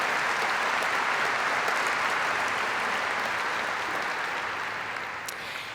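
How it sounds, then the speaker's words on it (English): An audience at a business summit gives a sustained round of applause, dense clapping that holds steady and begins to fade near the end. "Let's please give them a round of applause."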